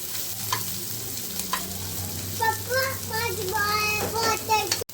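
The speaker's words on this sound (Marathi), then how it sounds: "आपण आता कांदो टाकला थोडंसं ना तो भाजून घेऊया" Onion fries in a pan for a Malvani-style fresh cashew vegetable dish, sizzling steadily while a spoon stirs it in repeated scraping strokes, with some faint high voices in the background.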